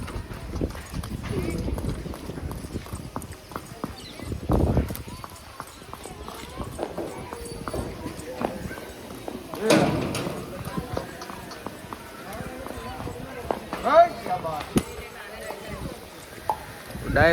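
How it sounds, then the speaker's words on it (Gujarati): A mare dancing without reins at an event in Surat, her hooves clip-clopping in irregular bursts, some louder close strikes, while people talk throughout. "તમે જોઈ ઘોડી લગામ વગર બહુ સારી કૂદે"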